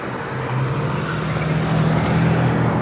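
Steady road traffic at night along a wide street near a metro line in a Saudi Arabian city, with a continuous low engine rumble of passing cars, no voices.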